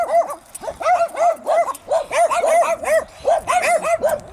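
Several dogs bark on a hillside meadow, a loud, nearby run of rapid, overlapping yapping barks and yips that continues without pause.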